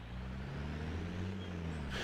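A tractor pulling a plow in the Cattle and Crops farming game gives a steady low engine drone, constant and moderately loud throughout, with no talk.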